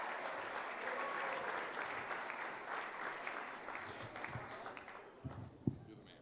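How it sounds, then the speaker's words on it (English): Audience at a sports media awards banquet gives a big round of applause for the honorees, dense sustained clapping that thins out near the end with a few scattered claps and low murmurs. "how about one more big round of applause for our state-winning Sports Writers of the Year and all of tonight's honorees."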